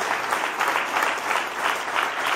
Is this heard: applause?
yes